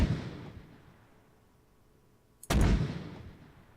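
An Mk6 82mm mortar fires in the video game Arma 3 with the ACE mod, one deep, loud launch boom with a long rumbling tail, following the fading rumble of an earlier shot.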